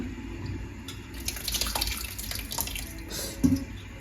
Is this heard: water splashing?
yes